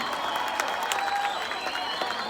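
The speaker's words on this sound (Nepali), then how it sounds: "तपाईँलाई कस्तो लाग्यो मन परे ताली दिनुहोस्" An audience at a Nepali concert in Brisbane claps in a dense, continuous wash of applause, fairly distant and even throughout, with crowd murmur mixed in.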